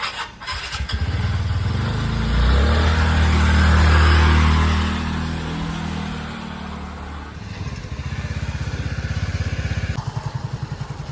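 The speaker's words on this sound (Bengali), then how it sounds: "এবার ইন্টর্ক চালিয়ে দেখবো একবার ইন্টর্ক নিয়ে গেছি ইন্টর্ক পাওয়ারফুল স্কুটি" A TVS Ntorq scooter revs up and pulls away, its engine swelling in a sustained drone before settling into a pulsing idle-like putter at close range.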